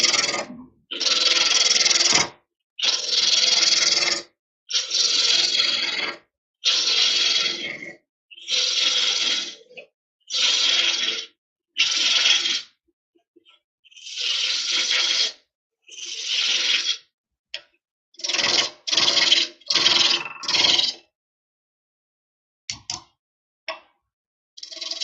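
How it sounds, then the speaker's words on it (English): A spindle roughing gouge cuts a spinning wood blank on a lathe, giving repeated rasping bursts of a few seconds each, separated by brief pauses, close and fairly loud. "So I'll use a spindle roughing gouge to take some of this away"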